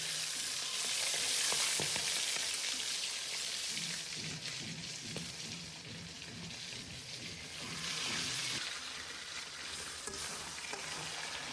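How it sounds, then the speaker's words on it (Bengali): Fish head frying in hot oil, a dense steady crackling sizzle with spattering pops, close and loud, swelling and easing slightly over time with no voices. "মাছের মাথা প্রথমে ভুট করে দিতে হবে, নয়তো গায়ে ছিটকে যাবে, দম দম করে ফুটবে।"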